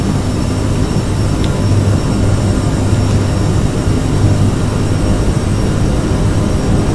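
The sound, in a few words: CRJ700 jet airliner engines at takeoff throttle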